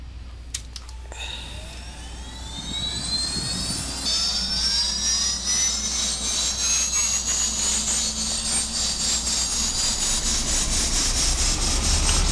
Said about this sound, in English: Let's go and get fuel flow and start that engine